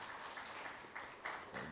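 A large audience applauds at a semiconductor conference, a faint, steady wash of clapping heard from a distance with slight swells, no voices over it.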